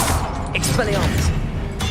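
Expelliarmus disarming spell cast in Hogwarts Legacy, a short burst of crackling, whooshing magic over game noise and a voice calling out, lasting under two seconds.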